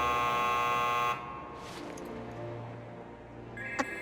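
Buzzer in a Final Fantasy Mobius cutscene, a loud harsh electronic buzz that holds steady for about a second then cuts off, followed by quieter hum and a faint blip.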